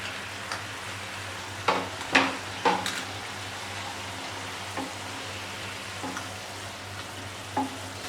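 Fried bread pieces are stirred into sticky sugar syrup in a pan for double ka meetha, a soft continuous sizzle with intermittent scraping and clinking of the spoon against the pan.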